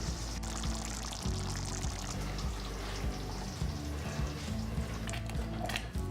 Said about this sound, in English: It's bubbling away nicely.